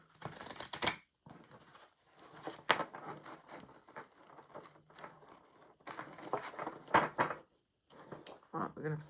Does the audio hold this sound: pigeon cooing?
no